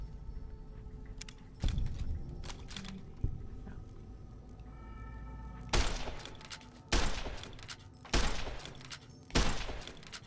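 Gunfire in the video game Fallout: New Vegas: several sharp, loud shots and impacts, irregularly spaced, with a cluster of bursts in the second half over quieter game ambience.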